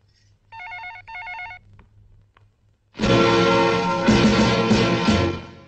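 An old-fashioned telephone bell rings in two short bursts in a 1993 Hindi film scene, fairly clear over a low hum. After a pause, a loud, dense wash of sound takes over.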